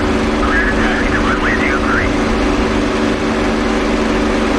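P-51 Mustang piston engine at full takeoff power in the DCS World flight sim, a loud steady broadband roar with a low drone filling the whole stretch, and a voice talking over it.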